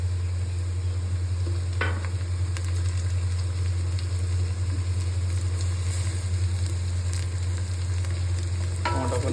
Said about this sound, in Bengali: তো পেঁয়াজটা যতক্ষণ না লাল হচ্ছে ততক্ষণ এটাকে এভাবে নাড়াতে হবে, কারণ এটা হাই ফ্লেমে আছে।